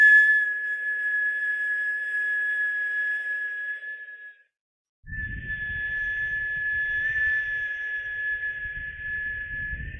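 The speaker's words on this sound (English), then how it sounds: "we're whistling our inhales and our exhales." Steady, airy whistling breath through pursed lips during a kundalini yoga breathing exercise, one long tone that breaks off briefly and resumes over a low rumble of breath noise.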